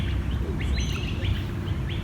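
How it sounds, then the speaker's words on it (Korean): Several birds chirp and whistle in trees outdoors in Sydney, with short bright calls repeating over a steady low rumble of background noise. "새소리 들으니까 좋다"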